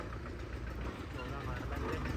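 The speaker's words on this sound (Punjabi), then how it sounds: "ਜਰਾ ਟਰੈਕਟਰ ਵਧੀਆ ਆਵਾਜ਼ ਉਹ ਟਰੈਕਟਰ ਹੀ" A tractor engine idles at a used tractor sale, a steady low rumbling chug close by that runs throughout.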